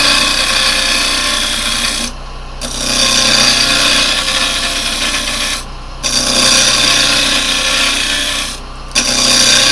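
Wood lathe turning a yew workpiece with a peeling cut, giving a loud, steady rasping, rubbing shaving sound that stops briefly three times as the tool lifts off, then resumes.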